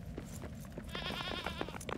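Goat bleating in Lord of the Rings: Return to Moria, a single wavering, nasal bleat up close, rising out of low background game noise.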